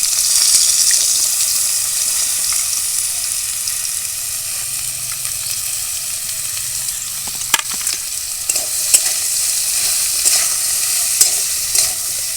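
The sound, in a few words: taro, potato and eggplant frying in oil in a wok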